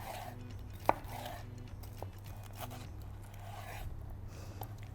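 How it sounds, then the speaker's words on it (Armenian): A knife chopping peppers on a cutting board, a few faint, scattered taps and cuts with one sharp knock, quiet and close in a home kitchen. "Սրանք էլ ենք կտրատում։"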